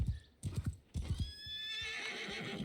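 A horse whinnies in Mount and Blade II Bannerlord, with a few close clip-clop hoof thuds at the start and a long, loud, bright neigh that carries through the second half.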